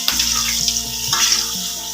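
Kerupuk shrimp-paste crackers fry in hot oil in a wok, a loud, continuous hiss and sizzle with a sharp start and small crackles as they puff, over a low steady hum, with no talking.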